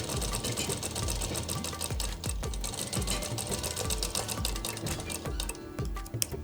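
A sewing machine stitches along a Patiala kurti hem in a continuous, fast rhythmic clatter, close and steady throughout without voices.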